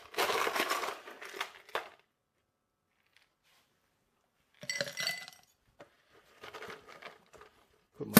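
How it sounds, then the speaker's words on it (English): Ice cubes are dropped into a glass while a Thanksgiving-inspired cocktail is being made, giving bright clinks and rattles in three separate bursts with quiet pauses between them. "Add a little ice to our glass."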